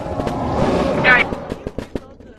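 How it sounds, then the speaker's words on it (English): Fireworks in the video game Animal Company go off as a series of sharp pops and crackles, one brighter burst followed by several quick bangs, with people talking over them. "Firework."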